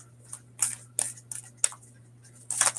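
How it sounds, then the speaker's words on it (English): Tarot cards being shuffled by hand: a series of short, crisp riffling bursts at irregular intervals, close and fairly quiet, with a steady low hum underneath. "And then I'm going to shuffle this"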